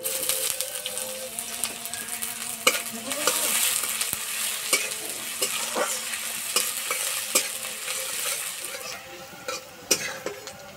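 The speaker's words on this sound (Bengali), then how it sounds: "পেঁয়াজ ভাজা হয়ে গেছে" Sliced onions sizzle steadily in hot mustard oil with five-spice in a wok while a utensil scrapes and clinks against the pan now and then; close by, no talking.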